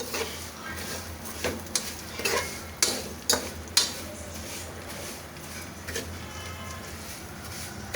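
Vermicelli browning in a pan is stirred continuously, giving a low frying rustle punctuated by irregular sharp clicks and scrapes of the utensil against the pan.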